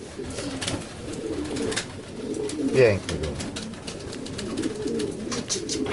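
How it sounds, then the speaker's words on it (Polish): Pigeons coo softly in a loft where Fabry and Janssen breed birds are kept, low murmuring calls running under a man's speech, with a brief louder flutter midway. "To jest jeszcze więcej takich gołębi."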